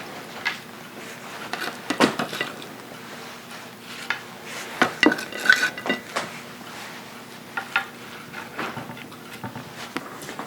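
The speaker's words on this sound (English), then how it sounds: "Now we'll put the potato pancakes on." Potato pancakes going into a hot pan, with scattered clinks and scrapes of a utensil against cookware over a soft background sizzle, irregular taps spread throughout.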